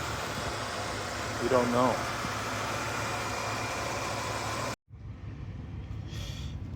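An old Lincoln's 3.8 engine idles with a steady low rumble and hiss, close and constant, while a person speaks briefly over it; the sound cuts out abruptly near the end and returns quieter.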